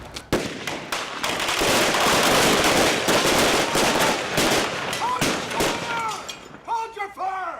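Sharp bursts of gunfire crack through a staged shootout on a film set, dense and loud for several seconds before thinning out, with voices shouting near the end.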